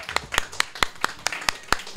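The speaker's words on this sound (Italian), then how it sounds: "Facciamo un altro applauso." Rhythmic, evenly spaced clapping from the audience of a live Italian comedy show, about nine crisp, fairly faint claps in a steady beat.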